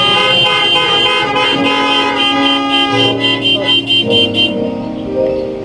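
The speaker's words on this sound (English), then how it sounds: "everybody honked their horn, see?" Several car horns honk and toot together in overlapping blasts at a drive-up church service, loud and sustained, then break into short staccato beeps before fading out.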